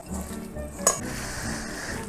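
A chilli pork marinade is stirred with cornflour in a bowl, giving a steady wet mixing sound and one sharp clink of spoon against the bowl near the middle.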